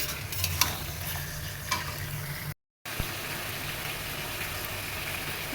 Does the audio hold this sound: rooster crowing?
no